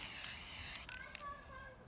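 A spray can hisses loudly and continuously as paint is sprayed onto a film prop pistol, a close aerosol rush that cuts off after about a second, followed by a few faint clicks.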